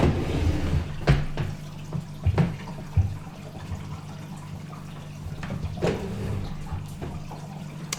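An automated plant watering system runs water indoors, a soft steady trickle with occasional drips and a few sharp clicks or knocks, heard close and fairly quiet.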